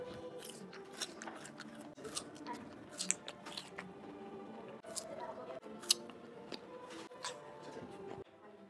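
Guava being chewed up close, with moist crunchy bites and squishy chewing at an irregular pace, quiet and intimate, with soft voices murmuring in the background.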